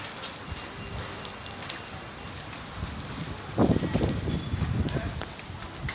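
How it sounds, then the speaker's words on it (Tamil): Steady patter of rain falling on a surface, fairly close, with a louder burst of splashing drips partway through. "இன்றைக்கி மழை பெஞ்சிருக்கனால நின்றுட்டு இருக்கேன்."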